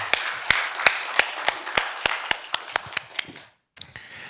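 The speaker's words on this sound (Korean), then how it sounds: "하나님께 영광의 박수를 드리겠습니다." Church congregation clapping together at a Korean Sunday service, a steady rhythmic beat of crisp claps with a brief pause before a final clap, moderately loud in a reverberant hall.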